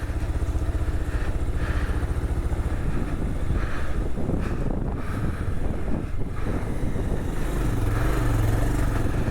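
Motorcycle riding on the way to Throttle Fest near a beach, with a steady low engine drone under heavy wind buffeting across the whole stretch, loud and continuous, no talking.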